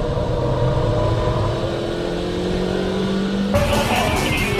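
Suzuki Swift Sport race car driving hard on a circuit, engine note droning and rising under load, then shifting abruptly to a brighter, louder roar near the end.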